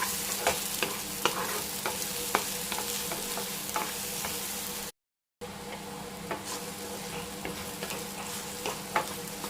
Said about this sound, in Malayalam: നെയ്യിലൊന്ന് വഴറ്റി കൊടുക്കാം.